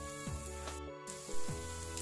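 Spices with bay leaves and kaffir lime leaves sizzle and crackle steadily in a hot pan for sambal, with soft scraping from stirring.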